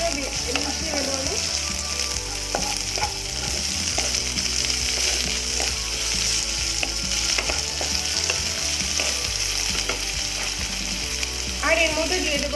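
Chicken pieces stir-fried with capsicum in hot oil, a dense, steady sizzle running throughout with scraping stirs and clinks mixed in, close and loud with no talking.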